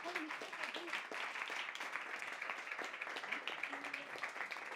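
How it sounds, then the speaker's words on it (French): A large audience applauds the deputy Sandrine Rousseau, president of a commission of inquiry, at a French cinema round table; steady dense clapping fills the whole stretch with a few voices mixed in. "que je vous demande d'applaudir"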